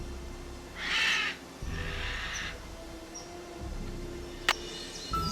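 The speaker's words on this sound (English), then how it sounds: "Crows." Crows give two drawn-out caws early on, then a faint distant call, a sharp click and another faint call, against a quiet outdoor hush.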